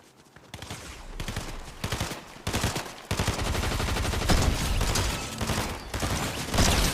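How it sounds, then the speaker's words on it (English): Rapid gunfire rattles through a Fortnite match against bots, bursts of shots running close and loud in quick succession, broken by a few brief pauses. "I want to use the shotgun because we do need shotgun damage on players"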